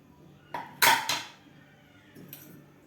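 A few close metallic clanks and scrapes as the lid of a cooled pressure cooker holding cooked dal is twisted and lifted off, then near quiet.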